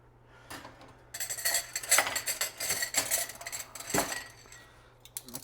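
Metal cutlery clinks and rattles repeatedly at close range in a dish drying rack, with jangling bursts as pieces are set down among dishes.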